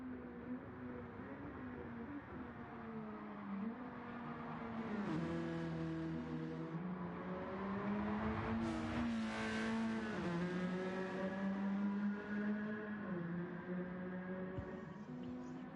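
Race car engines, including a Honda NSX, in the Gran Turismo 7 video game at Grand Valley: a steady, loud engine drone with rising and falling revs, as several cars run close together, with gear shifts and swells in pitch.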